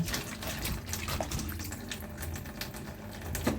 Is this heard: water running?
yes